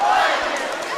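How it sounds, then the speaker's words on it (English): A high school student section at a basketball game chants "Let's go Pioneers" in unison, a loud sustained crowd roar filling the gym for about a second. "Let's go Pioneers is the chant."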